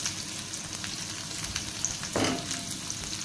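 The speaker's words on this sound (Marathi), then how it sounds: "तेल गरम झालेलं आहे। आता आपल्याला ह्याच्यामध्ये कांदा टाकून घ्यायचा आहे।" Chopped onion sizzling in hot oil in a pan, a steady close crackle with a brief louder burst of frying partway through.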